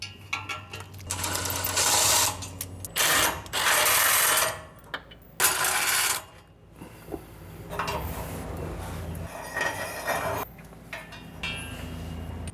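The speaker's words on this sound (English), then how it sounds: "Just gotta remove these 3 bolts." Bolts are worked loose from an exhaust header on a 1995 Chevy OBS truck with a ratcheting tool, giving bursts of close, loud mechanical whirring and clicking separated by short pauses and quieter handling.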